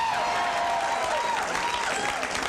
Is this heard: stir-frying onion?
no